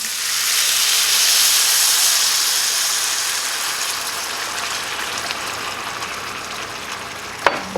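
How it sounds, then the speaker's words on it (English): Roasted corn broth poured into a hot skillet, bursting into a loud, close hiss of steam that slowly fades over several seconds, ending with a sharp clink. "we're going to go ahead and add 2 cups of our broth. This is my roasted corn stock."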